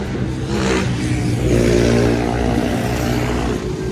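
A motorcycle with an open exhaust revs loudly nearby on a town street, its engine note climbing and holding a harsh, steady drone for several seconds.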